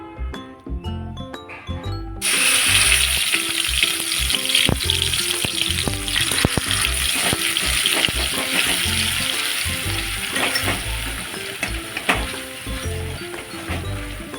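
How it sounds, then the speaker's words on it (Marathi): Masala sizzles and fries in hot oil in a kadhai for vajdi fry, a mutton tripe dish, starting after a brief musical intro and continuing as a steady, close crackle with occasional stirring scrapes and background music. "मसाला चांगला आपल्याला परतून घ्यायचा आहे तेलात"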